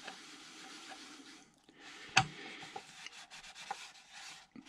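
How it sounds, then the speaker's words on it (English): A cloth soaked with paint stripper rubs over a clear Lexan RC car body, making soft continuous scrubbing strokes, close and fairly quiet, with one sharp click midway and no talking. "I just put a small bit on a cloth and start the rubbing."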